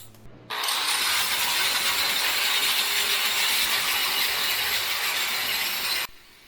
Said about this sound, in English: got out the big grinder and cut it almost as fast